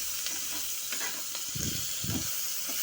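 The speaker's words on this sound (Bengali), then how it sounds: "লো টু মিডিয়ামে রেখে লবণ হলুদের সাথে শিমটাকে ভালো মতো করে মিশিয়ে নেব।" Broad beans being stirred with salt and turmeric in a pan over low to medium heat, a soft sizzle with several scraping stirs of a spatula, close by and without talk.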